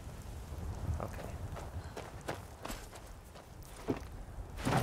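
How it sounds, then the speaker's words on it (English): A horse in the Skyrim VR video game clip-clops with irregular, fairly faint hoof thuds over a low, steady background rumble. "It's just a horse."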